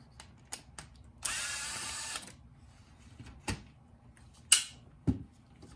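A screw is backed out of an Acura OEM navigation touch-screen display with a power driver: one sharp whirring burst of about a second, close up, followed by a few small clicks and taps of parts being handled.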